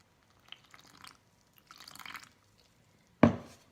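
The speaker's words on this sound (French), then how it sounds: "Vous rajoutez 15 centilitres d'eau." Water poured into a recipe mixture in a few short faint trickles, followed by a single louder splash near the end, close and with no talk.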